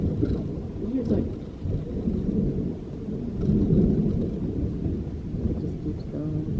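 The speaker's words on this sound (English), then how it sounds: "it sounds so much different here in the mountains. It echoes." Thunder echoing through the Colorado mountains during a storm, long, low rolling rumbles that swell and fade at a distance, with rain and faint voices underneath.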